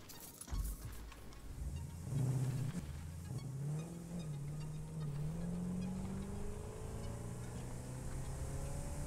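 Explorer vehicle driving in Satisfactory, its engine starting with a thump and then a low droning hum that rises in pitch as it accelerates, continuing steadily and quietly.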